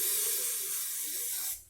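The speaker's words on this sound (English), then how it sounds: "give it a spray." Paint stripper sprays from a special nozzle onto painted brick masonry as one steady, close, breathy hiss lasting about a second and a half, then cutting off abruptly.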